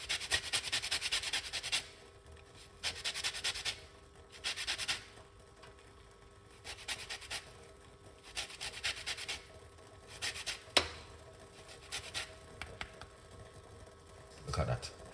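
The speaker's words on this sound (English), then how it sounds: "when you zest lemon or lime, you get a lot from it." A lemon rubbed against a grater while being zested makes rhythmic rasping bursts, each lasting about a second, close and fairly quiet, with short pauses between strokes.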